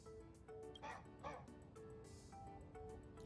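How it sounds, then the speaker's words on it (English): Dog barking in a Fate video game: a few faint, short yips and barks set back in the game mix, with a low hum under them. "Sounded like a dog."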